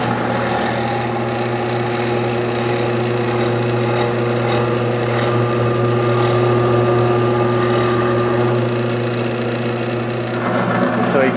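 A benchtop drill press bores into a block of wood, its steady motor hum droning continuously with faint rhythmic whirring throughout, close and fairly loud.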